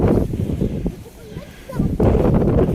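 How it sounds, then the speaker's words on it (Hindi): Strong wind gusts roar in a broad, steady rumble through a snow blizzard in Ontario. The gusting dips briefly in the middle, then swells back up loudly and close to the microphone. "काफ़ी तेज हवा भी आ रही है"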